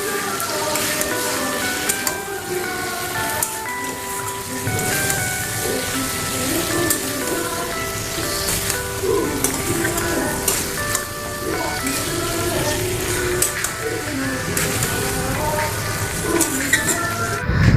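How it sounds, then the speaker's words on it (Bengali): Marinated chicken sizzles in a kadai with onion and garlic, a continuous bright crackle and spatter with occasional stirring scrapes, while music plays faintly in the background. "এবার আমি ম্যারিনেট করে রাখা মাংসগুলোকে দিয়ে দিলাম কড়াইয়ের মধ্যে"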